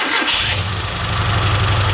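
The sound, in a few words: car engine starting from cold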